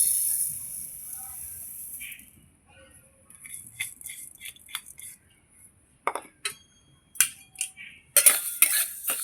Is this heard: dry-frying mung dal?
yes